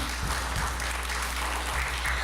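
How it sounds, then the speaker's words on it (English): Audience at a Houston music and arts tour show applauds for Miss Wheelchair Texas, a dense, steady wash of clapping filling the room. "Give her a round of applause, y'all"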